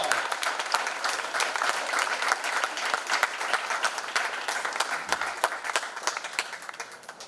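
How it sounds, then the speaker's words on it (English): Audience applause at a volunteer fire department jamboree in Lincoln County, a sustained dense round of clapping from a crowd for several seconds, with faint voices underneath. "Round of applause."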